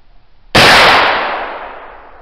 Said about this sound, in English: No hesitation at all. Gun went right off.